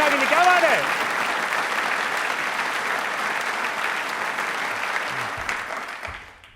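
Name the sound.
audience applause for the army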